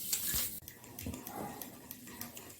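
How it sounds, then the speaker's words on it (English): Eggless chocolate cake batter being mixed with flour in a bowl, giving soft, irregular scraping and tapping sounds, faint and close, with no talking. "you just keep mixing until you blend in all your ingredients"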